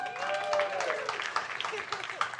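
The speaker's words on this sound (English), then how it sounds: "I think round of applause for Eva." A comedy and science show audience breaks into dense applause while voices carry on over it, the clapping thinning into scattered claps toward the end.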